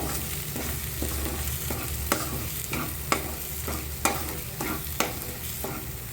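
A spoon scrapes and taps rhythmically against a pan while coriander powder and salt are mixed in, sizzling gently underneath, repeated stirring strokes about once a second.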